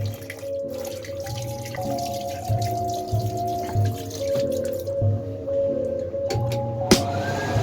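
Cold water running from a tap into a small sink in an Italian train washroom, a steady close splashing stream with dripping and a faint hum of the moving train beneath, ending in a sharp knock.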